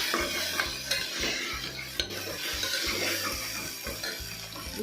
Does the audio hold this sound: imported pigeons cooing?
no